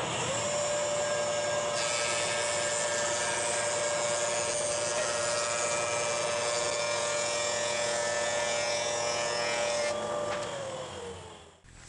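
A woodworking jointer whirs loudly and steadily as it cleans up board edges for nickel gap paneling, the cutterhead spinning with a strong rushing tone for about ten seconds before spinning down.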